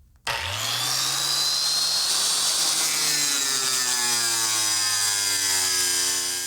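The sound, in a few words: cutting a car fender replacement part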